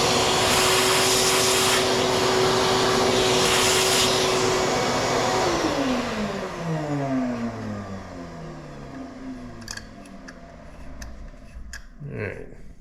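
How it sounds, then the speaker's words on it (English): A vacuum cleaner runs loud and close beside a motorcycle thread repair, its steady whine dropping and sliding down in pitch as it winds off, followed by a few light clicks. "Again, I'm going to get a vacuum."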